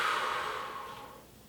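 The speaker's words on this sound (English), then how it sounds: "Keep breathing into it." A single long, deep exhale during a hip flexor stretch in a full-body home workout, close and breathy, fading out over about a second with no speech.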